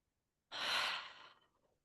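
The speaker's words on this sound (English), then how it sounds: "Taking a deep breath." One deep breath, a soft close airy exhale swelling quickly and then trailing off slowly into quiet.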